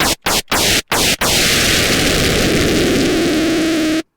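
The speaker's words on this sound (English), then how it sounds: "if you ever wanted to hear the sound 8-bit explosion, sound from every video game in your childhood" A synthesized 8-bit video game explosion effect built in Reason: several sharp noisy bursts cut by silences, then a long loud hiss of white noise that sustains before stopping abruptly.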